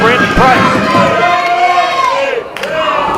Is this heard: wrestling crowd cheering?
yes